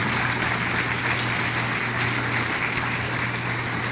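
A church congregation claps steadily in sustained applause for the Lord, a dense, even wash of hand claps with no speech over it.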